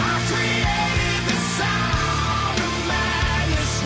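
Heavy rock music plays at steady volume, with distorted guitars and pounding drums in a driving rhythm, dense and loud throughout.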